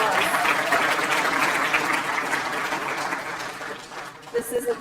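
Audience applause fills a nursing school pinning ceremony, a steady dense wash of clapping from a large crowd that continues evenly throughout, with a few louder claps near the end.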